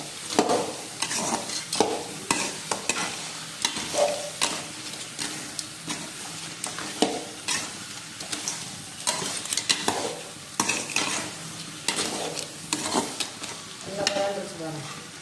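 Crab being stirred into masala in a frying pan, a steady sizzle with repeated scraping and stirring strokes throughout, close and fairly loud, with no talk.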